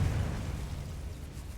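A Confringo blasting spell goes off in a video game as a single low, rumbling explosion that opens loud and decays into a fading roar over a couple of seconds, with no voices.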